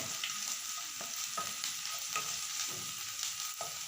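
Ginger, garlic and chilli paste fries in a pan for an Assamese pue saak dish, a steady close sizzle broken by repeated soft scrapes of stirring, with no voices.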